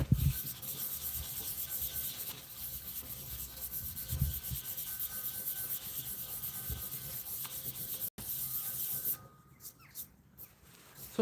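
Steady abrasive rubbing of sanding on a custom e-bike hub ahead of powder coating, continuous and close, with a brief break near the end and a quieter, thinner stretch after it.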